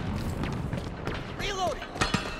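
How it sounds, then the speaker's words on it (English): Orbital ordnance detonates during a Halo Infinite multiplayer match: deep, booming blasts over a steady battle din, with a brief whistling sweep and sharp impacts near the end. "Ordnance dropping from orbit."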